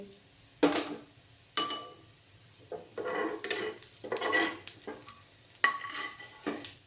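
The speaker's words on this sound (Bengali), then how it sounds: "পেঁয়াজগুলোকে ভালো করে ভেজে নিই আমি" Onions frying in a pan for a bean mash dish, with a soft sizzle beneath repeated scraping and clanking of a spatula against the pan as they are stirred and lifted out, close and moderately loud.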